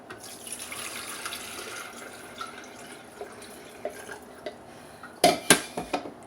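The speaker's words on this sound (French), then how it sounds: "Je vais mettre l'eau à bouillir." Water running from a kitchen tap into a pot to be brought to a boil, a soft steady flow followed by a few loud metallic clanks and knocks of the pot near the end.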